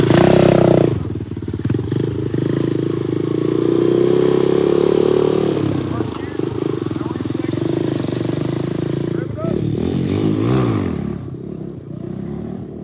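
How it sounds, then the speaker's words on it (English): Kawasaki KP mini motorcycle revving hard and holding a loud, droning engine note while wheelieing, then dropping and stuttering through uneven throttle blips near the end. "Basically clutching the bike up, catching it with your brake, guys."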